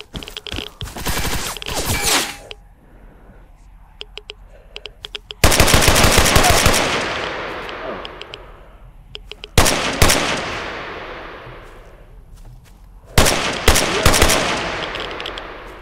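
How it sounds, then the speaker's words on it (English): Bursts of rapid automatic gunfire in the video game S.T.A.L.K.E.R. Anomaly, several loud volleys separated by quieter pauses with scattered single shots, harsh and close, with no voices. "Oh, gunshots."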